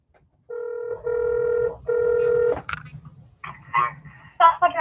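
A telephone call rings after a number is dialed: three steady, evenly spaced ring tones sound clearly, then a voice begins talking over faint line noise.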